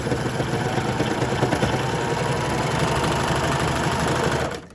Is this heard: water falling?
no